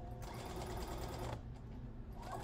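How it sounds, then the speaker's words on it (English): A sewing machine stitches fabric closed along a casing opening while a scarf is turned into pants, running as a steady, close, continuous mechanical whir with a brief pause partway through. "Oh, no, I'll sew it up."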